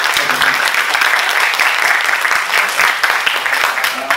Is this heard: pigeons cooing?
no